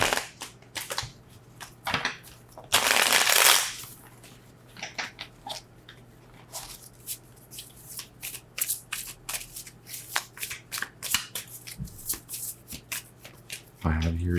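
An oracle card deck is shuffled with quick riffles and cascading card flicks, including a loud burst near the start, while a voice talks throughout.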